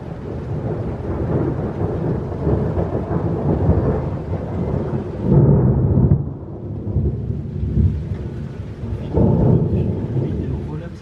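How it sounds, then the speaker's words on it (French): Thunderstorm with heavy rain, loud continuous rumbling thunder rolling in swells over steady rain noise, close and enveloping, with a faint voice underneath. "De l'orage et de la pluie."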